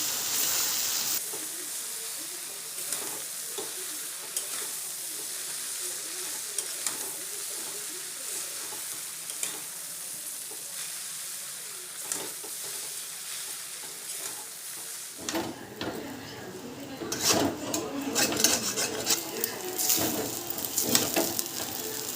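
Chowmein noodles tossed with fried chicken pieces in a hot pan, a steady close sizzle with scraping stirs that grows busier and louder toward the end, no talking.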